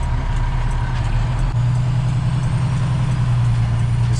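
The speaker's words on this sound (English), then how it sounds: "This truck just moves so slow" A slow-moving truck pulls out onto the road, its engine a loud low rumble that deepens into a steady laboring drone as it gets going, heard up close.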